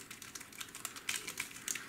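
Quiet key clicks from a compact travel keyboard, a soft, irregular run of light taps at close range with no talking.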